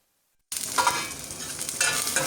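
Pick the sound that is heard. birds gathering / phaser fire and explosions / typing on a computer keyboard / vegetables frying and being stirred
vegetables frying and being stirred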